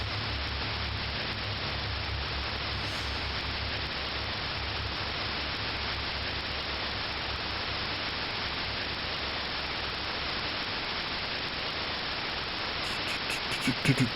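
Steady, loud hiss of white noise static from the video game Fear and Hunger 2: Termina, unbroken for the whole stretch before a news broadcast, with a brief crackle at the very end.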